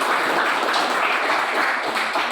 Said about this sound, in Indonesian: tepuk tangan untuk Feldi.